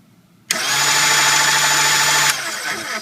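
A Gaggia MDF coffee grinder with its burrs set close switches on abruptly and runs with a loud, steady motor whine and grinding buzz for nearly two seconds, then cuts off and winds down briefly.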